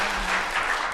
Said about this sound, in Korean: 박수 한번 좀 쳐주시면 감사하겠습니다.